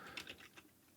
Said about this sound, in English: I was typing it right.